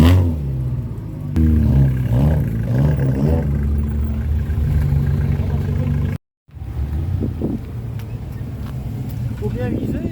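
A 1939 Licorne LR 164 vintage car idles steadily with a low, throbbing engine rumble at a classic car show, close and loud, briefly cutting out before running on, with voices talking over it.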